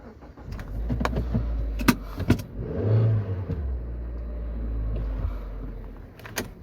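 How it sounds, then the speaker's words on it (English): A car being parked: low engine rumble with a brief rise in revs, plus several sharp clicks and knocks from inside the vehicle, close and moderately loud. "I have to park this car better."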